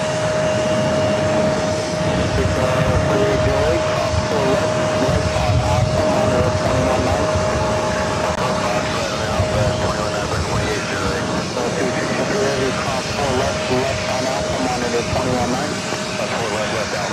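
An Airbus A320 airliner rolls down runway 4 Left at JFK airport, producing a steady, loud roar of engine and wind noise with a sustained tone, with faint voices beneath.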